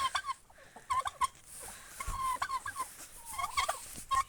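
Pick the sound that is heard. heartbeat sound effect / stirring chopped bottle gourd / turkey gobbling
turkey gobbling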